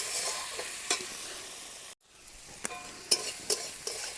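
Tomato paste fries in a pan while a spatula stirs it, giving a soft steady sizzle broken by a brief pause and several distinct scraping clicks, quiet and close with no talking.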